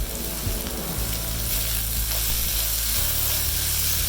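Fennel seeds frying in oil in a pan, a steady close sizzle with crackling and faint ticking pops running throughout, no voices.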